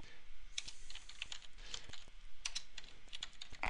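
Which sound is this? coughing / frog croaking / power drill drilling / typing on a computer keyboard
typing on a computer keyboard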